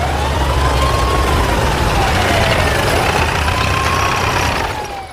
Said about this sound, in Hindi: कई गाड़ियों के रुकने की आवाज